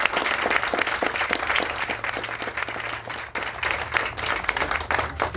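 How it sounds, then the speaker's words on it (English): An audience applauds the seniors at a college site dedication ceremony, dense sustained clapping from a sizeable crowd throughout, steady and fairly close, with no voices over it. "let's have another round of applause for our seniors"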